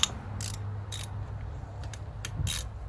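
Ratchet working a 10 millimeter bolt loose on an Evo 9 during a regulator install: a few quick, faint clicking bursts close by over low background hum.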